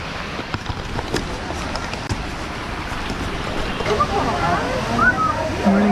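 Steady, broadband rushing water fills the scene, a constant roar from a waterfall in Goa with faint wind buffeting over it.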